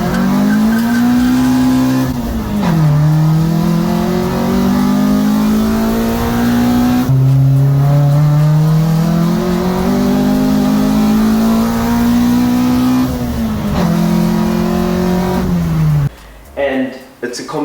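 A Renault Clio 182 race car, lightened for racing, revs hard through repeated rising pulls with sharp drops at each gear change. The engine is loud and close, with a brief sputtering pop at the end.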